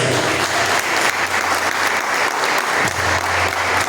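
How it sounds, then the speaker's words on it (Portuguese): Church congregation applauding, steady dense clapping from many hands that fills the room at an even loudness throughout, with a low hum underneath. "As palmas vão vir agradecem a Deus."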